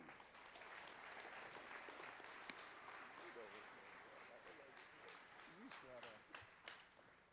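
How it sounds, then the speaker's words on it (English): A crowd applauds steadily with dense clapping, while voices talk and cheer underneath; the clapping fades slightly toward the end. "round of applause for my dude"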